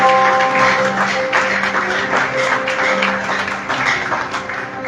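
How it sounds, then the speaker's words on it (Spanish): Church congregation applauding during a service, a steady dense wash of clapping over the whole stretch with sustained tones underneath, fairly loud and continuous. "Dale ese aplauso al Señor."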